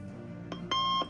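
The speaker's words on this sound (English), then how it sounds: "Oh, that's just my alarm clock." An alarm clock sounds a pair of short electronic beeps, the second one longer, quite faint and close by, over a quiet room hum.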